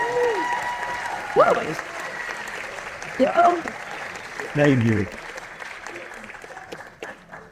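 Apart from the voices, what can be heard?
audience applause at film premiere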